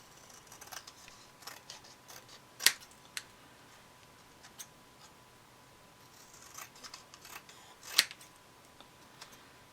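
Scissors trim the edge of an upcycled Christmas gift bag, with soft close snips and paper rustle, plus two sharp louder cuts standing out in a quiet room.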